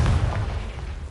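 Confringo explosive spell blast in a Harry Potter video game: a brief, heavy low boom that rolls off quickly, loud and close.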